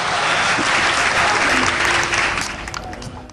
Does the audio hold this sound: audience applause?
yes